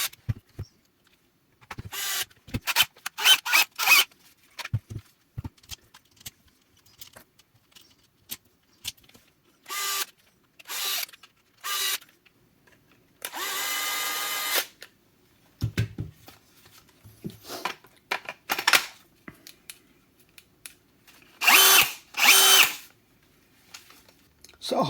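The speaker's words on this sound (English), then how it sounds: "We'll put the rest of the screws in it." DeWalt DCD996 hammer drill driving screws back in during a controller repair, several short whirring bursts with pauses, clinks and handling noises between them, close by.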